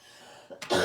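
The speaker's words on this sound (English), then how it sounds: "it was difficult listening tonight to me coughing" A person coughs once near the mic, a short broadband burst after a quiet stretch of faint room tone, with no talking.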